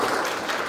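Steady, dense applause fills a campus church service as a first-time attendee, a safety engineering student, is welcomed; the clapping is continuous and even throughout this short moment.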